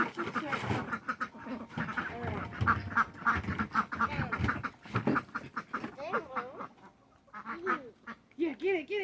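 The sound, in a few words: ducks quacking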